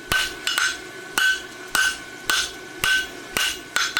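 A blacksmith forges a roadster horseshoe out in front of an anvil horn with a steady run of about eight ringing metal hammer blows, evenly spaced and close.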